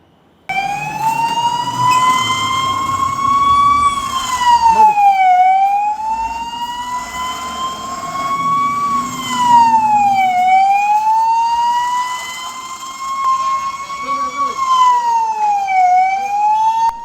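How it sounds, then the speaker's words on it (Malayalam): A civil defence mock drill warning siren at a government school in Kundara, Kerala, wailing loudly in slow rising and falling sweeps for about sixteen seconds, with a low background rumble under the first half. "സിവിൽ ഡിഫൻസ് മോക്ക് ഡ്രില്ലിന്റെ ഭാഗമായി കുണ്ടറയിൽ സൈറൻ അലർട്ട് നടത്തി."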